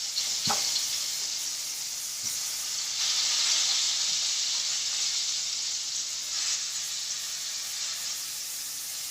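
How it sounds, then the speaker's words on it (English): Squash sizzles and fries steadily in a hot pot, a loud continuous hiss with brief swells and a few faint clicks, no talking. "we've ended up frying our squash"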